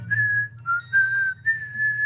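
A person whistling a slow melody of several sustained clear notes with short gaps between them, close and alone over a low background hum.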